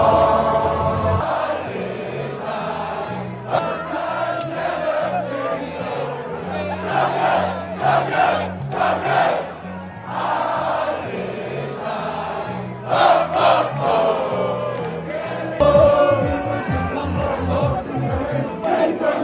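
Football fans at the World Cup in New York form a loud, dense crowd, chanting and cheering continuously with rhythmic surges and a few sharp drops, voices close and layered throughout.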